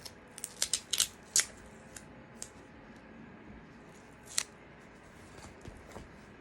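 Tape being pulled and cut for a grammar sorting activity in a classroom, a cluster of sharp snips and crinkles early on, then a few sparse faint clicks over a quiet room.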